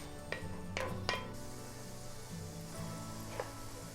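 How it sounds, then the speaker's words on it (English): Bacon melts down in a pan for Polish smalec spread, a faint, soft sizzle and crackle with a few sharp scraping taps of stirring near the start and one more later. "Make sure you stir it every couple of minutes so it kind of is evenly melting."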